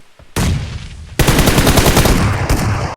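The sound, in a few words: gunfire in a video game shooter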